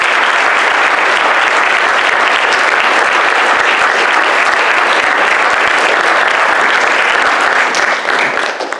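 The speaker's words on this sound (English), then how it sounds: "let's give a big round of applause to." Audience at an academic lecture bursting into sustained, dense applause, loud and even throughout with many hands clapping at once, tapering slightly at the very end.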